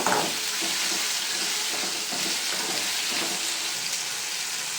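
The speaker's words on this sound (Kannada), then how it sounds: "ಟೊಮೆಟೊ ಎಲ್ಲ ಫುಲ್ ಮೆತ್ತಗೆ ಆಗಿಬಿಡ್ಬೇಕು ಅಲ್ಲಿವರೆಗೂ ಫ್ರೈ ಮಾಡ್ಕೋಬೇಕು" Tomatoes for chutney fry in a pan with a continuous, fairly loud crackling sizzle that stays even from start to finish, with no talk.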